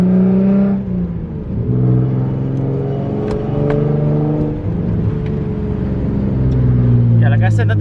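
An Infiniti Q50 engine hums steadily while driving, with low rumbling tones that rise and shift as it accelerates, close and continuous throughout.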